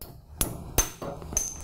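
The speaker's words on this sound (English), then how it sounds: "This is a hammer." A hammer taps a factory Mazda rotary engine apex seal held in a vise, four sharp, bright metallic clinks spaced unevenly over under two seconds, close and alone.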